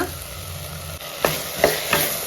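Cut brinjal and raw mango cooking in a pan for a village-style dry fish curry, a soft sizzle broken by a few scraping stirs near the end, close and moderately loud, with no voices.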